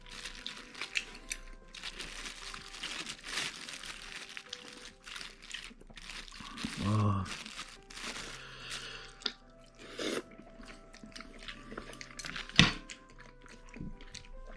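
Soft crunchy chewing and crackling of crispy food close to the mic over a busy, noisy background, with occasional louder crunches and clinks.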